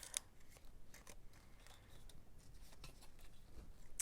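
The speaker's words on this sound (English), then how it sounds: "We're just going to trim the ends here, snip this off and this off." Scissors trim the paper ends off a handmade card with several quick, close snips in a quiet room.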